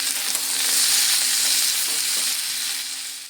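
Tomatoes and potatoes, cut into long pieces, fry together in a pan for a small-fish chorchori, giving a dense, continuous close sizzle with faint stirring underneath.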